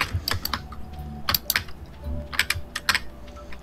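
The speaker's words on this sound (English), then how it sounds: "You have a very loud keyboard" A loud computer keyboard clicks away during a Stardew Valley gaming session, with irregular bursts of sharp keystrokes and short pauses between them, close and fairly quiet overall.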